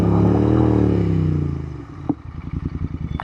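A Royal Enfield Interceptor 650 motorcycle revs through its exhaust pipes with a rising, droning engine note that fades out, then settles into a loud, steady, pulsing idle with one sharp clack, close by and with no talk.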